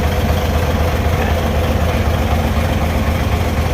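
A vehicle engine idles steadily and close by after its air suspension was rewired, a constant low rumble with no revving and no talk.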